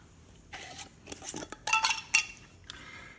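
Oysters and their juice tipped into a seafood gumbo pot bring a run of close metallic clinks, scrapes and wet splashes in irregular bursts, with no talking.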